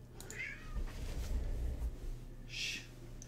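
A house cat meows a few times indoors, short nasal calls at moderate distance over a steady low room hum.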